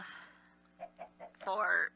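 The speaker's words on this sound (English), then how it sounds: "there will also be a lot more chickens" A few short clucks from a video game chicken, followed by a rising squawk, fairly close and alone.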